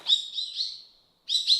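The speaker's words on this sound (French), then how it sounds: "Milly suivait le chant d'un oiseau" A small songbird chirps in bright, high trills: a warbling phrase, a short pause, then another burst, clear and close against silence.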